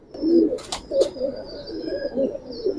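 Pigeons kept for sale give soft, low cooing calls, several rounded coos close by, with a few brief sharp chirps and faint background noise.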